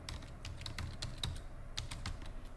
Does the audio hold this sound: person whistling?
no